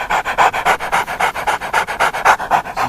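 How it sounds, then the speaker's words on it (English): A toy or real dog pants close by in a quick, even rhythm of about a dozen loud breathy puffs, with no barks and no talk. "this is a yellow dog"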